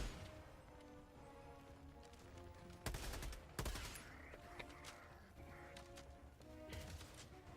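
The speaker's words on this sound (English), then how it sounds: "You can opt to do all barrels for this shotgun." A shotgun in Helldivers 2 fires all barrels at once: two heavy, booming blasts close together amid quiet game ambience and faint distant crackles, no talk.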